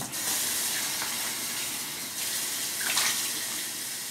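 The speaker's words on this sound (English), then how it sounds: "So I'm gonna rinse again with water and I'll do the next cleanse." Water runs steadily from a tap as a face is rinsed at a sink, a close, continuous hiss and splash with small shifts in the flow.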